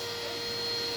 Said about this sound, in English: let's get back to vacuuming here, guys